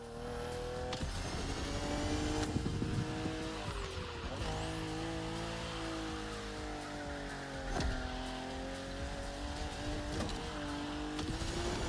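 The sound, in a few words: BMW M4 CSL engine driving, from video game The Crew Motorfest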